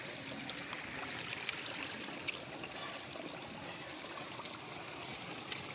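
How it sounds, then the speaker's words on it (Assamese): Floodwater from a swollen river during a flood rushes steadily at a distance, a continuous broadband wash with faint trickling detail, no voices. "এয়া আপোনালোকক দেখুৱাইছোঁ নদীৰ পানী"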